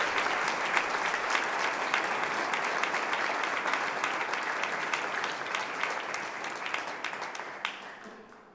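Dense, continuous applause from a church congregation, loud and steady for several seconds before tapering off at the end.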